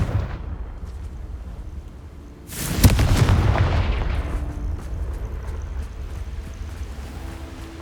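A Confringo blasting spell explodes in the Hogwarts Legacy game world: a sudden loud boom bursts in partway through over a low rumbling ambience, then decays into a long rolling rumble that gradually fades.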